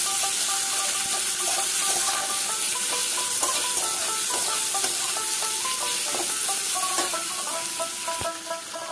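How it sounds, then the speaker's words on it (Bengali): Chopped onions fry in hot oil with black mustard seeds, giving a steady loud sizzle with constant crackle and small pops throughout. "পেঁয়াজগুলো এভাবে ভাজা করব।"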